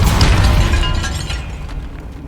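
A Depulso spell blast in Hogwarts Legacy, one loud, close, booming burst near a barricade in a tomb, followed by a rumbling decay.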